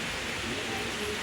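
Heavy rain falling outdoors, a dense even wash of steady hiss with no gaps over a brief moment.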